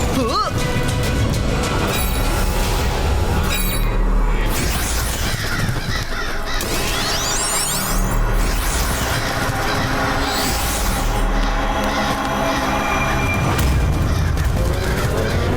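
Crows cawing loudly in a video game set in an Egyptian-themed adventure, several harsh calls over dense game music and effects, with a voice talking throughout.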